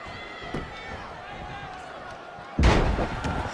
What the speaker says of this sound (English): Storm slamming Dakota down.